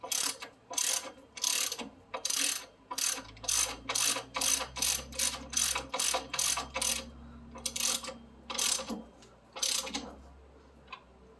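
A hand ratchet clicks in repeated short bursts while snugging a ball joint nut on a 1991 Toyota MR2 front suspension, each stroke a rapid close ratcheting chatter.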